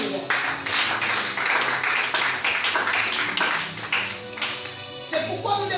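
Congregation in a French-language church service clapping together in acclaim, steady dense applause with music and voices mixed in throughout.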